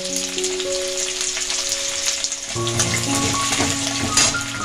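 Chopped garlic and ginger fry in hot oil with a steady crackling sizzle, close and moderately loud, and the spattering grows busier partway through.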